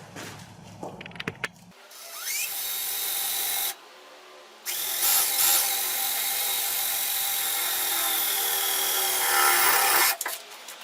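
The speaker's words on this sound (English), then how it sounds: "then I'm going to go ahead and drill those holes" A power drill whines loudly in sustained bursts, briefly stopping between holes, with a few clicks and handling noises before the first run.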